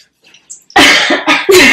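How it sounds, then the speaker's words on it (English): A few quiet breathy sounds, then a burst of three loud, close coughs in quick succession. "I feel like I need to cough now."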